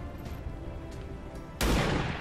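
A single gunshot in XCOM 2 cracks out loud and sudden near the end, with a brief rumbling decay after a quieter stretch of low game ambience.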